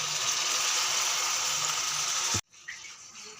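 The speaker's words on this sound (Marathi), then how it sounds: "पाणी, गरमच टाकूया थोडंसं" Hot water gushes steadily into a cooking pan for a couple of seconds, then cuts off abruptly, leaving a quiet clink and soft background noise.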